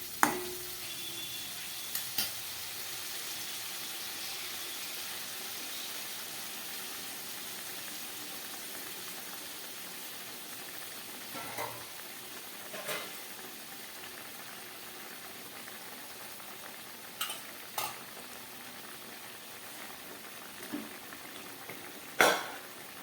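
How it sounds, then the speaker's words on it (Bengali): A pot of Bengali vegetable shukto with chunks of potato bubbles and simmers in a steady, soft hiss, with occasional light clinks and taps of a utensil against the pot. "তরকারিটা ফুটে উঠেছে"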